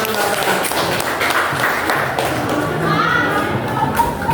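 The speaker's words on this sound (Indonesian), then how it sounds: "Oke, tepuk tangan buat Rahman" Students at a junior high school event clap together for a classmate, steady mixed clapping with thumps and children's voices talking over it, a teacher speaking near the end.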